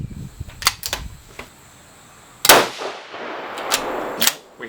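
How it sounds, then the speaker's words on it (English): A 6mm Creedmoor rifle loaded with Staball 6.5 powder and Magnum primers fires a delayed hangfire shot, a sharp close report with a ringing, decaying tail, preceded and followed by small metallic clicks and handling noises. "We hang fired that one too."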